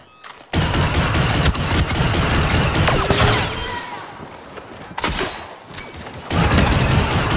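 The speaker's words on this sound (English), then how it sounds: "Grenade out!" Grenade blast during a Star Wars shooter battle on Yavin 4, a loud booming burst amid continuous heavy gunfire and explosions, with a second dull blast a few seconds later in the thick of combat.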